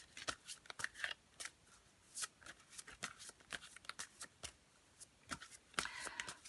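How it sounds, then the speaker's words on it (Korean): Tarot cards shuffled by hand during a reading, with quick, irregular bursts of riffling and flicking, soft and close, separated by brief pauses. "우리 3번 분들을 위해서 또 한번 조언의 카드를 뽑아볼게요"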